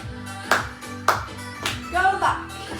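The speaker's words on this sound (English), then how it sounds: "Clap your hands." Hands clapping during a dance fitness routine set to a track, three or four sharp claps spaced about half a second apart over loud music.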